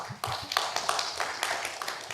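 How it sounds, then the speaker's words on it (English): Listeners at a librarians' talk event clap for the speakers, a dense patter of hands that starts abruptly and carries on steadily at modest loudness, with no voices over it. "Let's give a round of applause for our speakers"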